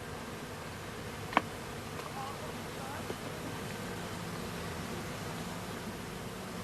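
A honey bee swarm held in a swarm box hums with a steady, dense buzz throughout, broken by a single sharp knock and a faint later tap.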